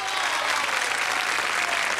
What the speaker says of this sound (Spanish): Aplausos para Rosabel Araya.